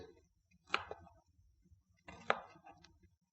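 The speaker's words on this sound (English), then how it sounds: "My pineapple is ready for cutting." Two sharp knife chops cut through a pineapple on a board about a second and a half apart, each with a short crunchy tail, against quiet surroundings.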